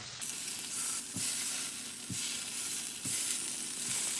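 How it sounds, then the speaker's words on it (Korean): Tofu slices sizzle steadily in hot oil in a pan over high heat, a constant close, loud crackling hiss broken by a few soft scraping stirs, with no voices. "처음에 센 불로 해서 기름이 코팅하듯이 해서 노릇하게 해주시고요"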